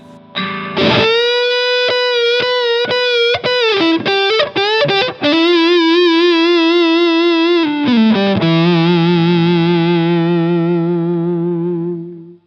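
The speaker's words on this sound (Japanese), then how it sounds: "この歪み切ってないんだけども、まあ歪んでますけどね、コンプ感があって伸びる感じ。" An electric guitar runs through an LPD Pedals distortion pedal voiced after a Dumble amp, giving a compressed, not fully saturated overdrive. Quick picked notes lead into a long held note, then a final chord that sustains loudly and slowly fades.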